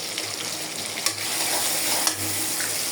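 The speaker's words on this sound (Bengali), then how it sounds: "এখন দিয়ে দেব সব ধনিয়াগুলো ভালো করে ভেজে নিব" Coriander with salt frying in a pan, a continuous close sizzle with a few light stirring scrapes and clicks, no voices.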